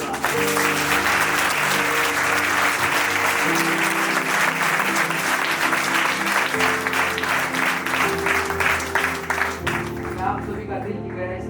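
Congregation clapping hands together during a church prayer gathering, loud rhythmic applause over sustained organ-like music tones, a voice speaking underneath, the clapping thinning near the end.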